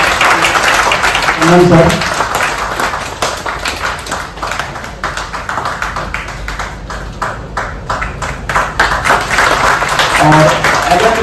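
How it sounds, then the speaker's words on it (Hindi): Enthusiastic applause from a conference audience at a naturopathy conference in Patna, sustained and loud, with a voice speaking over it. "और जोरदार ताली के साथ"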